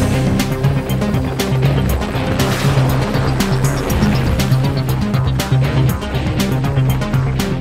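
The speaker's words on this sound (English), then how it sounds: "Now this is a common rail diesel engine." A Mahindra Verito's 1461cc common rail diesel engine idles with a steady, close, loud mechanical drone and rhythmic clatter, overlaid with sharp ticking transients.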